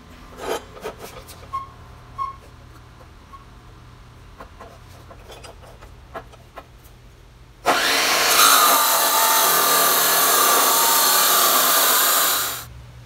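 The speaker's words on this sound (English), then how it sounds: "Now we'll take it over to the other saw, cut it off at length." A power saw cuts a 3¼-inch coupler to length for a gasifier cooling rail corner post. The loud, close, steady cutting roar lasts about five seconds, following quieter handling clatter.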